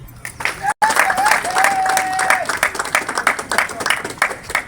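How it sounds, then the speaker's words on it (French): Applause from an audience at a ceremony in Kasumbalesa, dense clapping filling the space for several seconds after a brief pause, with faint whistle-like tones running through it. "je voudrais remercier le président de la République, Félix Antoine Tshisekedi Tshilombo, que je vous prie d'applaudir."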